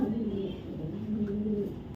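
Red checker racer pigeon, a female, cooing steadily in low rolling tones throughout, fairly close and clear, ending abruptly.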